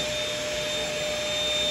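A vacuum cleaner runs with a steady, continuous whine and roar, operated by a child indoors, fairly loud and unbroken throughout with no talking.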